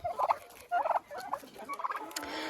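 Turkeys gobble in bursts, several loud warbling calls in quick succession from close by, with no voices.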